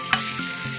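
Brief, close, steady sizzle of grated coconut, cumin, turmeric and curry leaves frying in a pan for basa fish curry, with one small stirring knock near the start.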